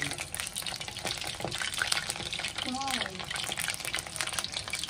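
Chicken nuggets fry in a pan just after being turned over, giving a steady, close crackling sizzle with a few brief squeaky tones partway through.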